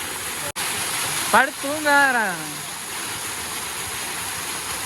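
A large waterfall at Yercaud, running low on water on a crowded weekday, gives a steady rushing roar throughout. A short voice rises above the water partway through.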